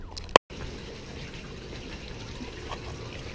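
Water runs steadily through an aquaponics system, a faint continuous trickle and flow, preceded by a brief sharp click near the start.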